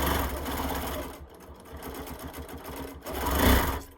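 A sewing machine stitches quilting lines on an alligator-shaped quilt. It runs steadily and close up in a continuous mechanical whir, with brief pauses and speed changes, then swells louder near the end. No voices are heard.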